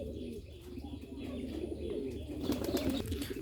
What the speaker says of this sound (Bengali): বোম্বাই কবুতর ডাকাডাকি করতেছে।